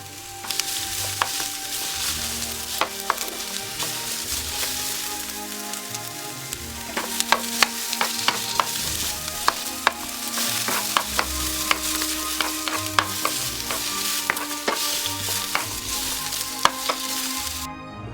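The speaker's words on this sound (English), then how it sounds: "Put 1 teaspoon of oil in a pan and put a pickled cucumber. Stir them for 3 minutes in a medium heat." A pickled cucumber stir-fries in a teaspoon of oil in a pan over medium heat, crackling in a steady close sizzle broken by frequent sharp pops and scraping stirs, with no voices.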